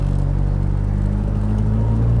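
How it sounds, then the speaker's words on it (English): A Cosworth-engined Mk1 Ford Escort on the move, heard from inside the car as a loud, steady low engine rumble and drone with a faint whir above it and no talking. "Oh, I love turbo noises."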